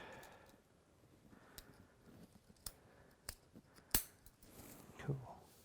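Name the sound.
scissors cutting while unboxing an Eryone ER20 3D printer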